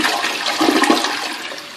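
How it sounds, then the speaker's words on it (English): Low-flow toilet flushing after its side hole was taped over with electrical tape, a loud close rush of swirling water that holds steady for a couple of seconds and then starts to ease. "New flush with just the hole covered over with electrical tape."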